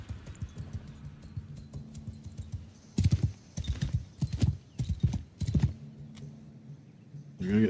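A horse's hooves clip-clop in Bannerlord with the Old Realms mod, a close, uneven run of hard knocking steps that stop and start, with brief pauses between bursts.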